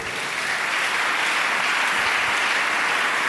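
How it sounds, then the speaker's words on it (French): A church congregation bursts into sustained applause, a dense, loud wash of clapping that holds steady for a few seconds with no voices standing out. "Acclamons la parole."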